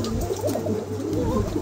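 A pair of white King pigeons of show quality coo softly and continuously, the low burbling close by with faint background noise and no talk.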